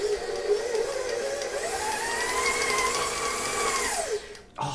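Electric stand mixer with a paddle blending gluten-free molasses cookie dough, a steady close motor whine that rises in pitch as the speed is turned up, then drops and cuts off.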